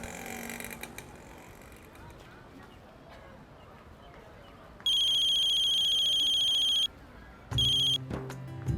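A telephone rings in a domestic drama scene, with two bursts of loud electronic ringing, the first long and steady and the second shorter, over a quiet room background.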